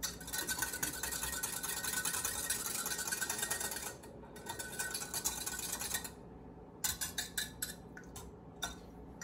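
Pumpkin puree is being stirred into pumpkin donut batter in a bowl: steady, busy scraping and clicking of a utensil against the bowl that breaks into irregular clinks and taps toward the end, with no talking.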